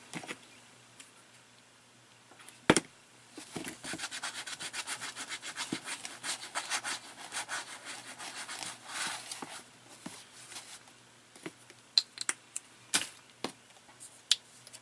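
Hooker's green paint rubbed onto a canvas with bare fingers, giving soft, close, continuous scuffing and rubbing strokes with a few sharper taps, in a quiet room with no talking.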